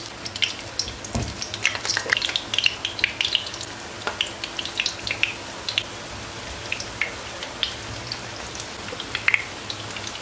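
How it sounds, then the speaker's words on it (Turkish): Eggplant halves fry in hot oil in a pot over medium-high heat, giving a steady dense sizzle with scattered sharp pops and crackles, heard alone and fairly close. "Orta ateşten biraz daha yüksekte ters düz ederek patlıcanları önce kızartacağım."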